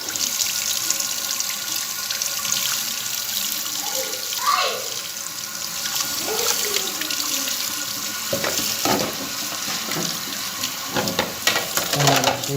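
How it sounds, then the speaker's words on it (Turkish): Ordinary tap water runs steadily from a faucet as a computer motherboard is washed under it, with splashing changes as the board moves through the stream and no speech. "Anakartı yıkayacağım. Normal çeşme suyu."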